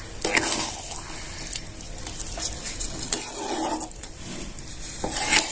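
Rava is stirred in ghee in a kadhai over a low flame for a prasad sweet, giving soft, repeated scraping and rubbing strokes of a spoon against the pan with a light sizzle underneath.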